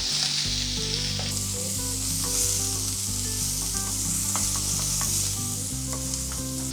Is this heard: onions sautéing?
yes